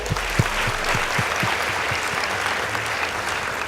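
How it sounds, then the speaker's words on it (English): An audience claps for a girls' high school debate team at a school debate competition, a steady broad wash of many hands with a few sharper low thumps, continuous and fairly loud throughout. "Please give them a round of applause"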